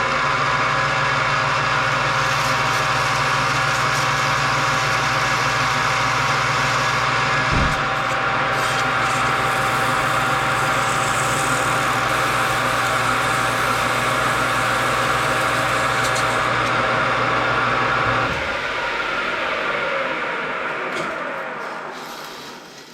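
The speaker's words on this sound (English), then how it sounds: "Now the key to doing this is to set your lathe to ludicrous speed, move slow and apply light pressure" A lathe spinning at very high speed while polishing the pilot snout of a Honda transmission, a loud steady mechanical whir with tonal hum throughout, one brief knock partway, then spinning down and stopping near the end.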